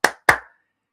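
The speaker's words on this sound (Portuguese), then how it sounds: "bate palmas." Two sharp hand claps about a quarter second apart, close and crisp, keeping time with a children's action song; each clap decays quickly and silence follows.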